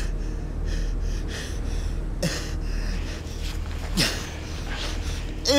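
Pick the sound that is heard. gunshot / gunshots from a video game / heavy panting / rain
heavy panting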